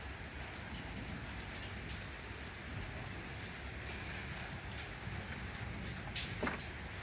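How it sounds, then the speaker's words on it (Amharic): Steady rain falls continuously, a dense even hiss of drops spattering on surfaces, moderately loud with no voices and only a brief sharper splash near the end. "እኛ ጋር ምን እንደመሰለ ዝናብ ማለት ነው።"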